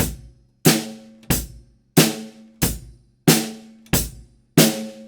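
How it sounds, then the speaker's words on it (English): A simple beginner groove played on a drum kit, with eight evenly spaced hits whose sharp attacks alternate between low thuds and brighter cracks. Each hit decays quickly, and no voice is heard. "We've learnt a really simple drum groove"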